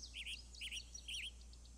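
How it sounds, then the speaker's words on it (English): Western tanager song in the Nancy Drew video game: three short, burry, warbled phrases in quick succession, bright and near, against faint background hiss. "Western tanager."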